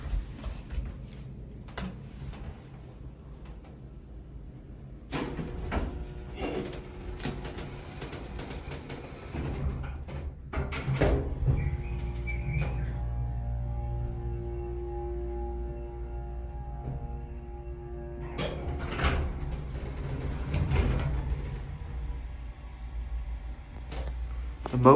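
Original vintage Houston hydraulic elevator in an office building running through a trip, with clicking relays, sliding cab doors and clunks over a low motor hum; mechanical ticks come in bursts near and far.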